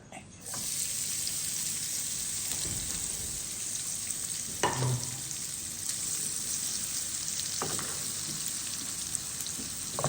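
Ingredients for a spicy khoira fish curry fry in mustard and white oil in a pan, giving a steady close sizzle with occasional scrapes and clatters from stirring.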